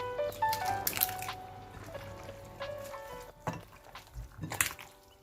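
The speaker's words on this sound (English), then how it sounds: "Keep mixing until every part of the beef gets a little bit of the ingredients that we used." Beef is mixed by hand with salt and seasonings, giving soft wet squishing and dripping sounds in slow irregular handfuls, close and fairly quiet, with a few brief louder squelches.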